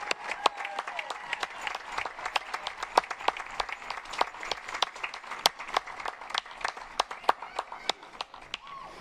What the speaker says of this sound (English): How about one more round of applause for the members of the class of 2025 for that song?